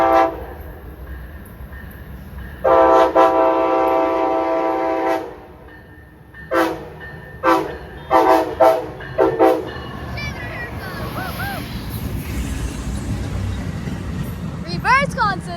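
An Amtrak train runs a reversed consist past railfans at DFB station. Its horn gives one long blast and then several short toots, followed by the rumble and squeal of the passing cars. People speak briefly.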